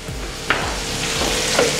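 Salted green peas and mixed vegetables stirred in a hot pan for vegetable pulao, a loud continuous sizzle with a couple of soft spoon scrapes, close and without voices.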